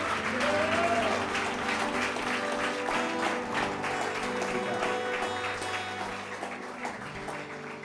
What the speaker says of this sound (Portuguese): Será que você pode aplaudir o Senhor nessa manhã?